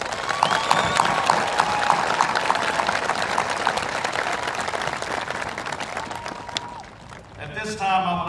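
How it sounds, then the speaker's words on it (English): A graduation audience for the class of 2019 at Millington Central breaks into sustained applause, dense clapping filling a large hall, with a voice over a microphone and the clapping thinning out toward the end. "Class of 2019, please give these individuals a round of applause."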